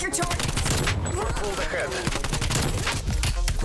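Rapid gunfire from the Black Ops Cold War video game, with shotgun blasts in a close-quarters fight, in dense, loud overlapping bursts that carry on without a break for the whole stretch.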